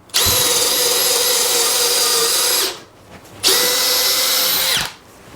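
A Makita 40V XGT cordless hammer drill whines at high speed in two bursts on speed 1, each lasting a couple of seconds, separated by a short pause.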